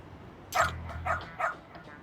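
A dog in the video game Lost Judgment gives three short yipping barks at an even pace, moderately close over a quiet low background hum.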